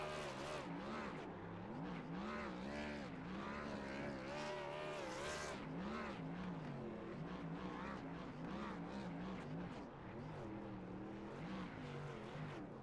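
Race car engines in an Xfinity Series sim race at Phoenix, revving hard and warbling with a continuous loud roar as a car does burnouts, with commentators talking over it.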